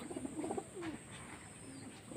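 Pigeons of an old full-shira line kept for flying coo softly, with a few faint low calls over quiet room noise.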